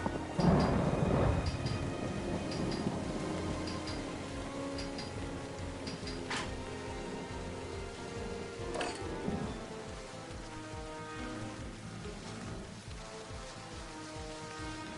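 Rain and thunder in The Da Vinci Code PC video game: a loud rumbling thunder burst at the start fading into steady rainfall, with a couple of sharp crackles later, no talking.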